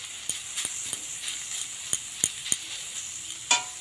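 Radish greens and radish frying in plenty of oil, a steady close sizzle with several sharp spatula scrapes and taps against the pan, no talking.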